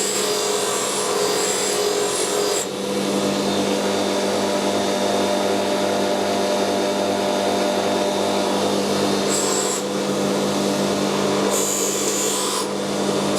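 A bench wire wheel scrubs the choke valves from a Solex 4A1 carburettor for BMW and Mercedes, a steady abrasive whirring grind that runs continuously and close, with brief brighter hissing bursts as the part is pressed in.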